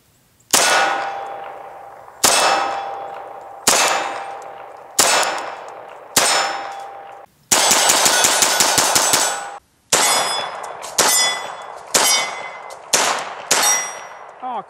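Shots from a Bersa Thunder 380 Plus pistol firing 94 grain .380 rounds ring out as loud metallic clangs off steel targets, some spaced singly and one rapid burst of hits, each leaving a ringing decay.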